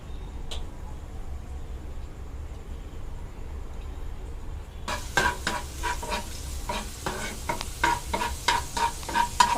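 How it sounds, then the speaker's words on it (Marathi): Chopped garlic and ginger frying in oil in a pan. A few seconds of near-quiet give way to loud, close sizzling, with repeated scraping and clicking strokes as the mixture is stirred. "आपला लसूण आणि अद्रक व्यवस्थित असं लालसर ते तेलामध्ये फ्राय करून घेऊ।"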